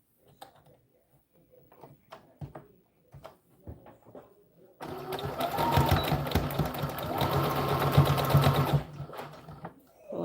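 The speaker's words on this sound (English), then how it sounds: "let's sew the other end" A sewing machine stitches an American Girl doll dress in one steady, close run of several seconds, preceded by a few quiet handling clicks.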